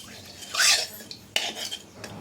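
A spoon stirring black cumin seeds and a bay leaf in hot oil in a pan, heard as a few short scraping clinks against the metal, close and fairly quiet, with no talk.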